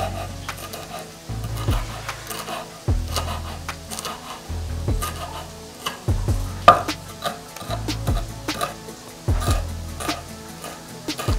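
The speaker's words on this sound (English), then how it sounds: "we're going to cut our coriander into small pieces." A knife chops coriander into small pieces on a board, making steady, rhythmic close thuds with faint sizzling from a nearby pan in the background.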